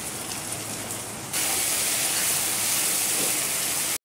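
Tomatoes with a little salt frying in a pan after onions, a steady broadband sizzle that jumps louder partway through and holds, with no talking.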